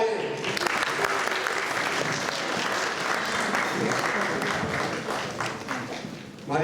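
Sustained applause from an awards ceremony audience at a Pakistani community achievements event in Hounslow, dense and steady clapping filling the room for several seconds with no voices over it.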